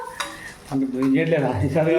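A curry with a fresh tempering is stirred in a pan, with a spoon scraping and clinking against the metal over a soft sizzle, close and steady throughout.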